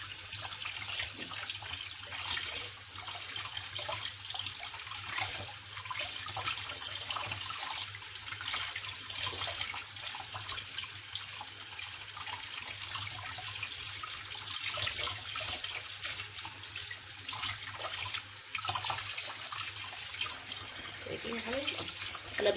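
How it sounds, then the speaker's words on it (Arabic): Tap water runs steadily from a faucet over beef intestines being rinsed and cleaned, a continuous hiss and splash that carries through the whole clip with faint handling sounds. "نحطه تحت الحنفية وندخل."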